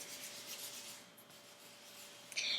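Soft, steady rubbing as cooked glutinous rice flour is worked onto mooncake dough, a continuous close hushing texture ending in a slightly brighter scrape.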